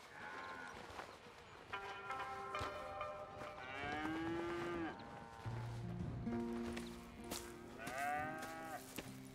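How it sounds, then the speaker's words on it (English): Cattle moo repeatedly on a ranch in the Red Dead Redemption 2 video game, with several long drawn-out lowing calls, some overlapping, sounding close and clear with no talking. "Here's the cows."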